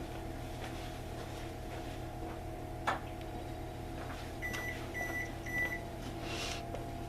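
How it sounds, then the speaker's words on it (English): An oven beeps three short times to signal it has preheated, the tones clear over a steady low kitchen hum, with a single knock a little earlier. "that's the oven being ready to go"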